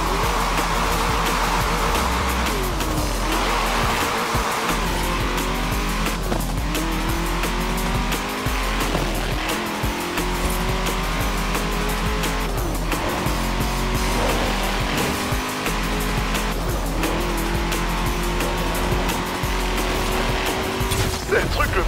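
A Ferrari FXXK race car drives hard, its engine loud and close as it revs up through the gears with repeated rising whines, a steady roar underneath and a hint of tire squeal, with voices faint beneath.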